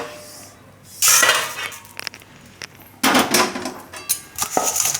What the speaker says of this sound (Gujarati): આને આપણે કાઢી લઉં બીજા વાસણમાં